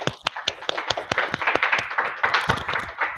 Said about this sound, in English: Let's give you an applause.